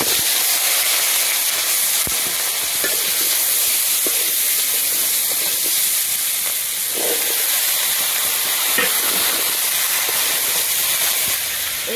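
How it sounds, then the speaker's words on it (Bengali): Vegetables fry in a pan in a village kitchen with a continuous, even sizzling hiss, steady and close, with no talk over it. "সবজিগুলো ভেজে নিই।"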